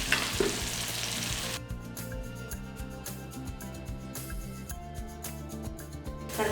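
Continuous sizzling and crackling of fish curry masala powder frying in hot oil for Tamil meen kulambu, steady and close, with occasional stirring scrapes and no talking.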